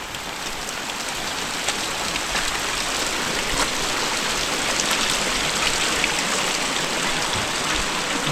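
Heavy monsoon rain pours steadily in a village, a dense, even hiss of water hitting surfaces close by, unbroken from start to finish with no voices.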